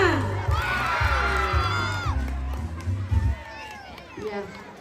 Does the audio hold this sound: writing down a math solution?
no